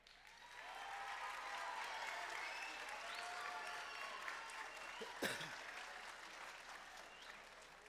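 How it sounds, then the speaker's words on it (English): Audience applause for a junior high concert band at a school winter concert, dense and steady throughout, with a single sharp knock partway through. "can we get a round of applause for our concert band?"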